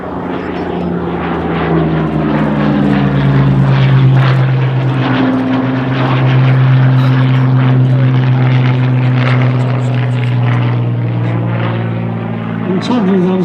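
Hawker Hurricane fighter at an air display, its piston engine and propeller droning loud and steady as it flies past, with a slight pitch shift near the end.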